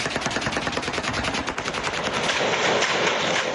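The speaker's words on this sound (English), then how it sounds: "For hours, shooting echoed through the streets of Beirut." Gunfire in the streets of Beirut, rapid bursts of automatic fire cracking in quick succession, loud and echoing between buildings, with no one talking over it.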